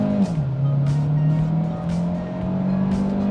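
A Maxus D60 Pro, a 2021 automatic with a small turbocharged engine, accelerates in manual mode, its engine drone climbing steadily in pitch under road and tire noise.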